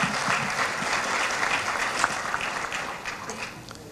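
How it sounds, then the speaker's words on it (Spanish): An audience claps warmly, a dense, sustained round of applause that gradually tapers off toward the end. "Lo recibimos con un caluroso aplauso."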